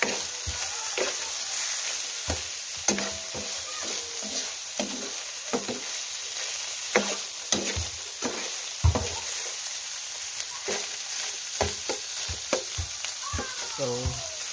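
Sea leech adobo cooking in a pan, a continuous close sizzle broken by repeated scraping strokes and clacks of a spoon stirring, irregular and fairly loud throughout.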